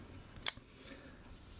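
A Shieldon Hierophant flipper pocket knife with a 154CM blade on ceramic caged bearings gives a single crisp, close metallic snap as the blade flips out, otherwise quiet.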